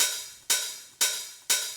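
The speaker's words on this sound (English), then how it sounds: "open hi-hat. That sounds like this." Three bright, sizzling open hi-hat hits from an Ableton Live drum rack, evenly spaced about half a second apart, each ringing out and fading before the next.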